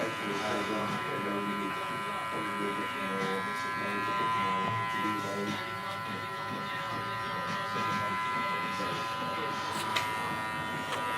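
An electric hair clipper buzzes steadily while trimming around the edges of a slicked-back haircut, with a person talking over the hum throughout.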